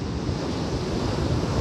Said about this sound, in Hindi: ये देखिए समंदर सोमनाथ सी, इसे बोलते हैं सोमनाथ सी।